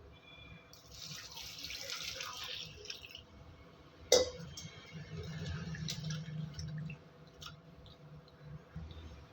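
Water runs steadily from a tap into a metal cooking pot of bitter gourd, with a sharp clink partway through and faint kitchen clatter around it.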